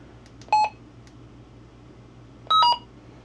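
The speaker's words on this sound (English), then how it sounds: "Let's get that beep turned off real quick." Two short electronic beeps from a radio's menu, the first around half a second in and the second about two seconds later, over a faint low hum.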